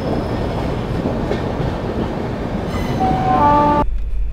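Yeshwanthpur Duronto Express train rolling steadily past Gwalior station, a loud continuous rumble of wheels on rails with clickety-clack and brief high wheel squeals near the end, then cut off abruptly.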